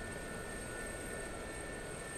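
Gazelle helicopter in DCS World flight simulator, a steady rotor and turbine drone with a thin high whine, constant and close without change over the whole stretch.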